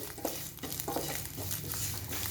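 Moringa leaf thoran stirred as it fries in a pan, with continuous sizzling and several scraping stirs of a spoon, close and fairly quiet with no talk.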